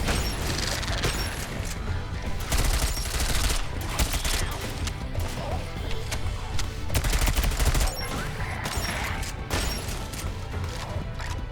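Sustained turret gunfire in the video game Sentry, dense rapid shots and crashing impacts running nonstop at high intensity, with a few louder bursts standing out from the constant barrage.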